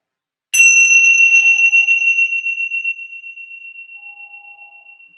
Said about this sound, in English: I'll invite my bell of mindfulness